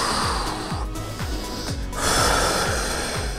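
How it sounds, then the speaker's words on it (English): Heavy, rhythmic breathing during a dumbbell fat-loss workout for back and legs, with repeated forceful exhales and snorting breaths, close and loud, no words spoken. "You hear my breathing?"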